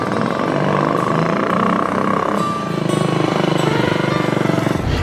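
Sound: restored motorcycle engine running

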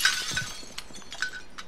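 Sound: glass breaking in Call of Duty Modern Warfare video game

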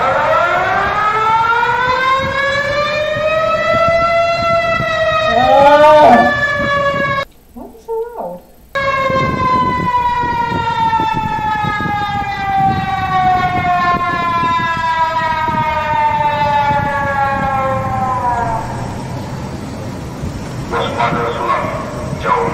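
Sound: emergency alert siren

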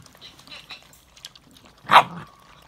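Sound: puppies growling and barking

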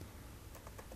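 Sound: typing an email address on a computer keyboard

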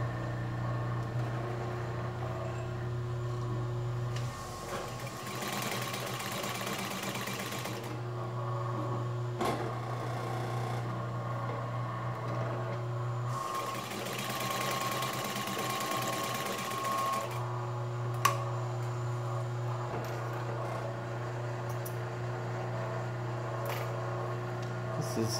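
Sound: Singer 31-15 industrial sewing machine sewing marine vinyl

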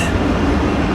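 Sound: passing train

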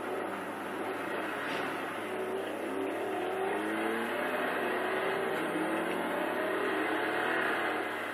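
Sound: truck engine revving in a racing video game

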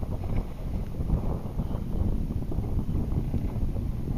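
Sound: wind gust while sailing a dinghy

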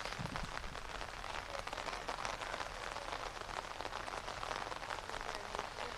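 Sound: heavy rain falling in Chandigarh and Mohali

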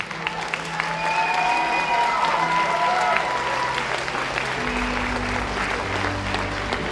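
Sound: applause for finalists

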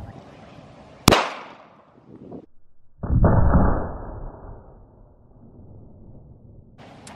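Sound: Glock 23 .40 caliber gunshot into 2x4 boards

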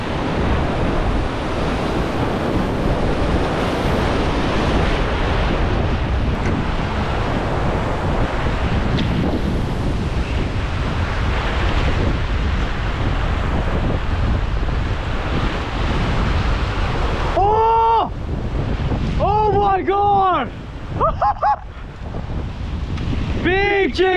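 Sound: wind blowing on the beach

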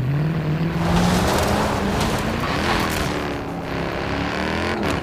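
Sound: car accelerating through gears in Forza Horizon 4 video game

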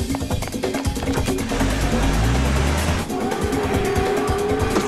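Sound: car speeding away in a chase

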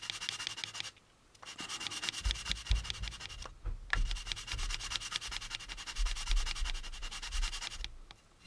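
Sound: sanding plastic model kit parts to remove sink marks

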